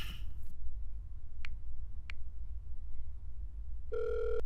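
A phone being dialled: a few short key beeps, then a steady electronic ringback tone near the end, over a low room hum.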